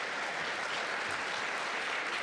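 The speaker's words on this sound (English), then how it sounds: "Cue the clapping." A panel-discussion audience breaks into steady, continuous applause that fills the whole stretch, many hands clapping at an even level with no pauses.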